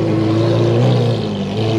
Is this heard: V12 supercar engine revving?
yes